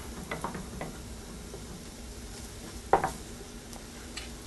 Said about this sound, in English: There go my mushrooms in there. And these are going to absorb all that fat that's in the pan.